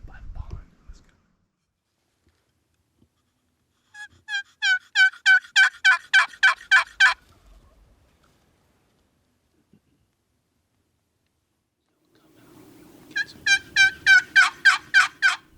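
Wild Rio Grande turkey gobbling on a ranch, two loud rapid gobble bursts a few seconds apart, each a quick run of rattling notes, with a faint low rumble and soft whispering near the start and before the second call.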